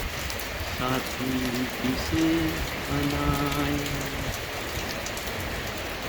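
Heavy rain falls steadily and densely on surfaces throughout, while a faint voice sings softly underneath.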